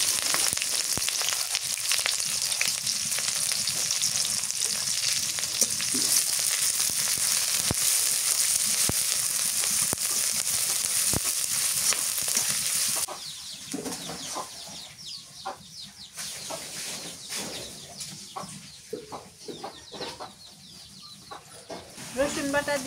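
Chopped onions frying in hot oil in a pot, cooked outdoors in a village setting, give a steady loud sizzle that drops and turns patchier partway through, with faint rural background sounds and possible soft talk.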